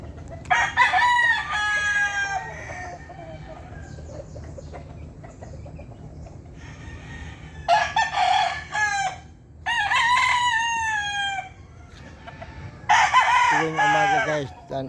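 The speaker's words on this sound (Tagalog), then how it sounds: "Ito guys, mga manok ko." Roosters crow repeatedly, loud and close, in several separate bursts over a quieter farmyard background with occasional soft clucking.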